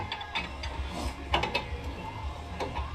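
Ratcheting clicks and metallic mechanical ticks from a 22mm wrench tightening a new upper ball joint on a GM truck or SUV, a steady close run of small clicks with no talk.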